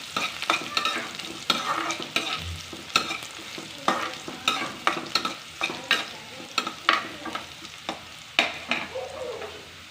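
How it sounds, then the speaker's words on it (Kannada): Carrot strips frying with cumin in a pan, stirred in a steady rhythm of scraping strokes over a soft, constant sizzle, close and fairly quiet, with no voices. "ಜೀರಿಗೆ ಸ್ವಲ್ಪ ಫ್ರೈ ಆದಮೇಲೆ ಕ್ಯಾರೆಟ್ ಹಾಕ್ಕೊಳ್ಳಿ"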